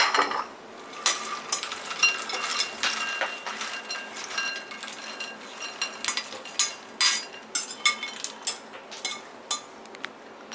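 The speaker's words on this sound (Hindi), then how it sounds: "अब मैं इसको एक बोल में निकाल लेती हूँ" Roasted makhana (fox nuts) scooped from a kadhai into a bowl, with repeated metallic clinks and scrapes of a spoon against the pan, close and irregular, growing into sharper knocks toward the end.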